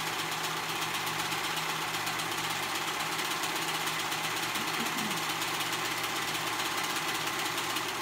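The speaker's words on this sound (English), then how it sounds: "And I'm gonna go ahead and sew that together. I am using my serger." A serger sewing machine runs continuously at high speed, a steady dense mechanical whir with no pauses.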